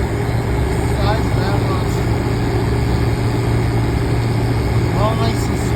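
A 1995 Weatherking Select 10 air conditioner with a Copeland reciprocating compressor runs with a steady low hum and drone throughout, while someone talks briefly over it.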